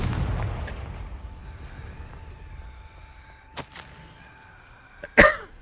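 Confringo blasting spell in the video game Hogwarts Legacy, a sharp explosive crack near the end after a fading rumble, with fainter impact bursts earlier and quiet game ambience between.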